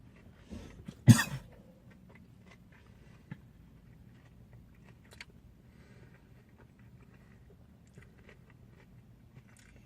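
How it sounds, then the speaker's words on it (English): One sharp, loud cough near the start, followed by quiet room sounds with faint clicks and small movements. "I'm about to cough a lot."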